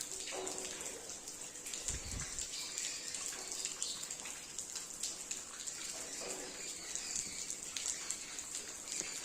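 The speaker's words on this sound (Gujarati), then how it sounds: "પાણી ટપક ટપક ટપક પાણી ચાલુ જ છે." Rainwater from a long, steady downpour drips and patters quietly at a farm, a soft continuous wash with scattered drops and a brief low thud partway through.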